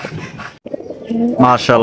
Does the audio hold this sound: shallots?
no